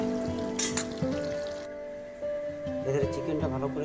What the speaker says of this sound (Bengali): আমি প্রথমে তেল গরম করতে দিয়ে দিয়েছিলাম, যে আলুটাকে ভেজে নিচ্ছি